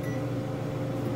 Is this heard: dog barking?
no